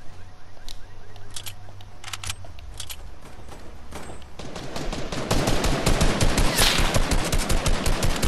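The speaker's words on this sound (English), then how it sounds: "I have a hunting rifle." Hunting rifle fire in a video game, a run of sharp shots at first, then a dense, rapid rattle of gunfire growing louder through the second half, with no talk over it.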